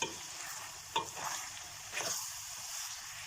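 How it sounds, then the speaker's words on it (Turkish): Tomato paste sautéing in a pan, a soft steady sizzle with a few stirring scrapes near 1 and 2 seconds, close and fairly quiet with no talking. "1 yemek kaşığı salça ilave ediyorum. Salçamla beraber de bir güzel kavuruyorum."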